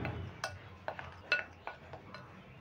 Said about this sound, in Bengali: এবার সমস্ত উপকরণগুলো আমি ভালো করে মিশিয়ে নেব।